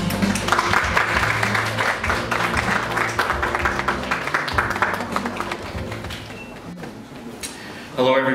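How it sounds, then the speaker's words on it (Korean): Dense applause from a sizable crowd at a Lincoln Nautilus media showcase in Korea, steady for several seconds and then thinning out, with a brief burst of noise at the end. "큰 박수로 모시겠습니다."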